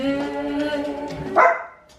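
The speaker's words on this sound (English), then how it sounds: "dogs are barking" Dogs barking close by indoors: a sustained whining, yelping bark tone followed by a sharper bark near the end, with no talk over it.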